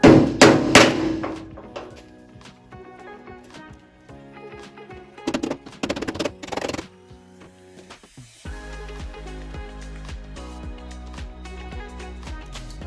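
Sharp metallic hammer taps on a dented Chevrolet C10 squarebody truck body panel in short clusters with pauses, followed by a steady low hum under continued light tapping.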